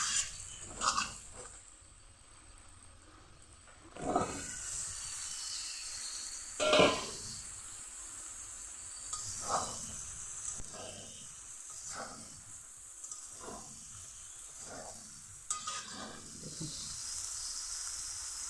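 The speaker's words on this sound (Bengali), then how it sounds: "আলু কিছুক্ষণ ভেজে নিলাম, এখন বেগুনগুলো দিয়ে একসঙ্গে আরও কিছুক্ষণ ভেজে নেব।" Potatoes and eggplant frying together in a pan, a steady faint sizzle and hiss running throughout, with occasional louder crackling spurts as the vegetables are stirred.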